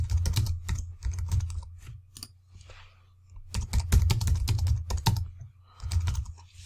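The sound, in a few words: typing a blog post on a computer keyboard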